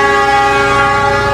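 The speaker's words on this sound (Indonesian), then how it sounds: "Jalur 6 kereta api Bima." Bima stainless new generation passenger train at a station sounding a long, loud, sustained horn blast, close and steady for its full length.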